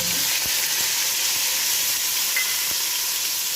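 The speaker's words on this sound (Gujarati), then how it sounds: "હવે આપણે ટમેટો પહેલા વઘારવાનું છે" Tomatoes hit hot oil seasoned with garlic, cumin and asafoetida for methi bhaji, giving a loud, dense hiss that holds steady, with a few faint ticks from a utensil.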